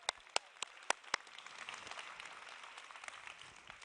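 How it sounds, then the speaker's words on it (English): Applause at a talk on HR trends: a few loud, sharp claps close by at the start, then scattered, fainter clapping from the audience trailing off, no talk. "Let me first ask you to join me in a round of applause for the organization"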